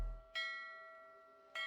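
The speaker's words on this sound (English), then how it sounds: "When you hear ship bells, it indicates that he's going to shield" Two bright metallic ship bell strikes ring out in the game Wizard101, each a clear chime with a lingering tone, the second following just over a second after the first.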